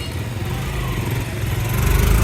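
A motorcycle engine runs steadily just after a service, its close, loud low-pitched chug holding an even idle rhythm with no talking.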